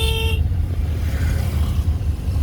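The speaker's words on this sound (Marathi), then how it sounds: "आता टर्न आहे ना हॉर्न वाजवा." A car horn gives one brief toot at a turn during a driving lesson, heard over the steady low rumble of the car's engine and road noise.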